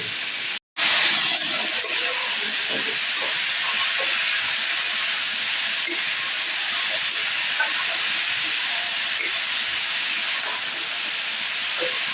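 Raw cabbage for a Bengali cabbage ghonto drops into a hot pan and sets off a loud, steady sizzle that runs unbroken after a brief silence at the start, with no voices.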